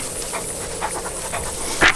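A dog pants close by in quick, rhythmic breaths, ending with a short louder huff.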